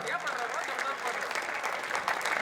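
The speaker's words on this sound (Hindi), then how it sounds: "आप लोग भी टाइमिंग सीखो, एक बार जोरदार ताली बजाओ।" Faint, distant applause from the audience at a Hindi poetry gathering, a kavi sammelan and mushaira at IIT Jodhpur, soft clapping running under a talking voice.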